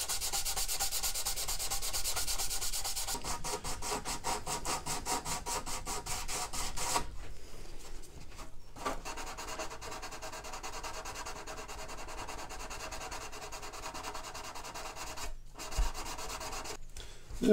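Steady rasping strokes of sandpaper work over the plastic hull of a 1/200 Trumpeter Bismarck model ship, rhythmic and close, with brief pauses between bursts and no talk.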